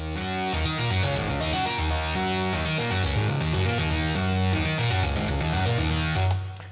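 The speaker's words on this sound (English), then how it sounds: "I added a guitar amp, and I used the distorted Frankenweed drive" A synth runs through a guitar amp with a distorted Frankenweed drive in Logic Pro. It plays a gritty, driven bass and chord line loud and alone, then cuts off near the end.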